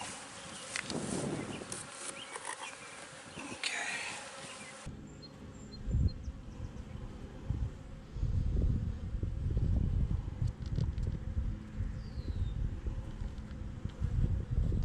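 Honey bees buzz steadily around a newly installed beehive, a dense close swarm drone that carries on throughout with some louder bursts as insects pass near, wind and handling noise mixed in.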